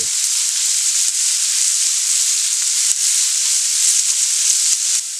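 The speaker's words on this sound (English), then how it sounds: "Add your garlic and cook for 1 to 2 minutes, or until your house smells like garlic" Garlic sizzles steadily in a hot pan, a loud, even, bright frying hiss that runs unbroken with a few faint clicks and no talk.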